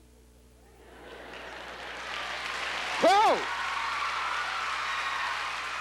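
Crowd applause swells from quiet into a steady, broad clapping that carries on to the end, with a brief exclaimed voice cutting through near the middle.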